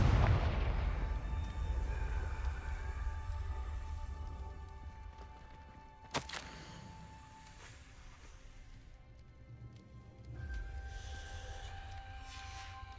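Booming Confringo spell explosions in the video game Hogwarts Legacy, with a heavy low blast at the start, a sharp crack partway through and another rumbling burst near the end over ringing, tonal game ambience.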